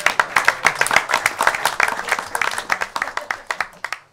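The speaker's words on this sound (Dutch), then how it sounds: "En ik wil daar wel een applaus voor hebben." A small crowd at a village election debate claps, with individual hand claps distinct and uneven, sustained for a few seconds before thinning out.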